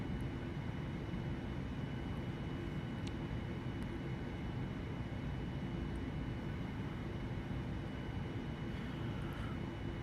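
A Boeing 787 airliner in FSX at Melbourne airport rolls onto the taxiway, a steady low engine rumble and whine, quiet and unchanging throughout with no talk.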